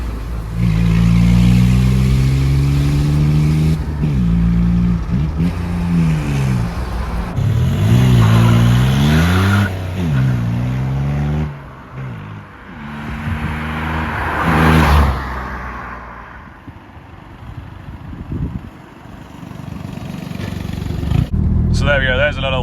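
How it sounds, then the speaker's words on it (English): An Audi A2 revs and roars past, pitch sweeping up and down through gear changes, with people talking over and between the passes. "So there we go, there's a little flyby of Matthew's A2."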